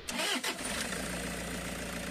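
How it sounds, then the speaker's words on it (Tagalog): A Toyota Hiace Grandia van's engine is started and settles into a steady idle after a fuel filter repair, a short cranking burst followed by a continuous close, even running hum. "Switch off, tapos start ulit makina."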